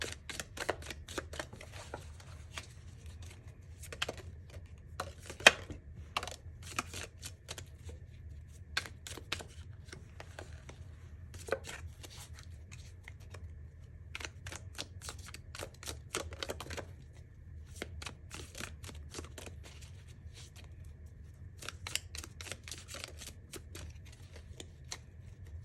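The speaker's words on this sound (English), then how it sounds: "One more shuffle." Tea leaf fortune cards are shuffled in a quiet room, giving faint rapid riffling and clicking bursts that come in clusters with brief pauses, with no talking.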